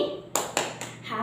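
Hands clap three crisp, evenly spaced times in a children's classroom clapping chant, loud and close, with a faint voice in the background.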